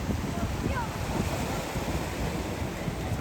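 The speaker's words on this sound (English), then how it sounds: "I think it's called Ona Beach" Surf breaking along a beach in Puerto Vallarta, Mexico, a steady broadband wash with wind buffeting the microphone throughout and no clear pauses.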